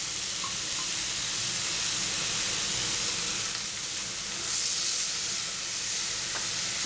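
Vegetables for veggie burgers fry in a pan with a steady, dense sizzle and hiss that holds evenly throughout, close and fairly loud with no voices.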